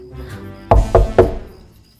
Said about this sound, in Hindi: दरवाजा फिर बजा